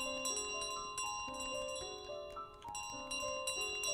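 In Untitled Goose Game, a bell rings in repeated bright, metallic chimes with several struck tones overlapping in quick, uneven rhythm, moderately quiet against a soft background.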